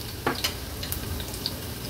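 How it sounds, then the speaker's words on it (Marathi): Four to five crushed garlic cloves drop into hot oil for a tempering, giving a quiet, steady sizzle with a few soft clicks and light stirring taps. "फोडणीला मी एक 4 ते 5 लसणाच्या पाकळ्या चेचून घेतल्यात, त्या ऍड करते"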